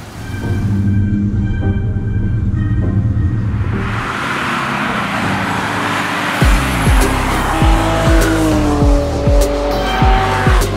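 A car lapping a race track during an open track-day session, engine droning steadily, then tires squealing in repeated loud bursts as it corners hard.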